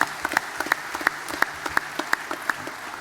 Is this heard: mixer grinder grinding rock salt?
no